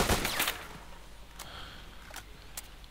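Gunshots in S.T.A.L.K.E.R.: Call of Pripyat fired through wood: a heavy burst of shots up front, then several sharp, isolated cracks spaced a second or so apart, mid-distance over a low ambient hum.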